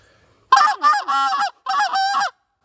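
Short reed Canada goose call blown as a filler confidence call: a few quick, close honking notes in two bursts, loud and clear against silence.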